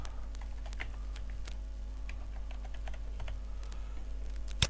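Rapid typing on a computer keyboard, a steady stream of light clicks and taps at close range over a low constant hum, with no voices.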